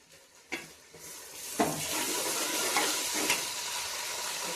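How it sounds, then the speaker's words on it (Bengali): Ginger and garlic paste fries with browned onion in a pot for chicken pulao: a steady, moderate sizzle broken by a few sharp scrapes and knocks of a stirring spoon. "এবার রসুন আর আদা বাটাটা দিয়ে দিচ্ছি।"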